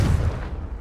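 A Confringo spell explosion from the Hogwarts Legacy video game sounds as a single short, deep boom that hits hard and fades quickly, heard alone without speech.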